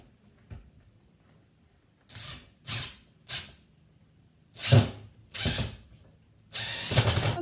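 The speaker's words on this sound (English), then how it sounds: "So we are going to do the last 3-inch screw on this side." Power drill driving a 3-inch screw into a wooden Pikler assembly, five or six short whirring bursts with pauses between, close and fairly loud, no talk.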